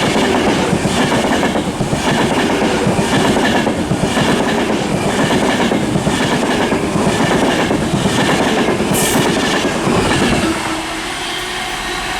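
A train runs through Liverpool South Parkway station on the West Coast Main Line, bound for Liverpool Lime Street from London Euston. A loud, close, continuous rumble with wheel clatter and squeal eases off near the end.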